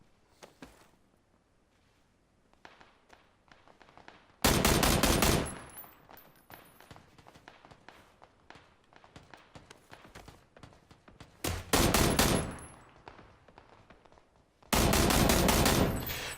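Bursts of M16 rifle fire from the game PUBG, three loud sustained volleys of rapid automatic shots separated by quieter stretches of ambient game sound and footsteps.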